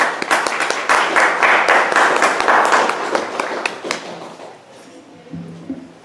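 An audience at a general academic session claps to welcome a professor, with dense applause that gradually fades out before a voice begins.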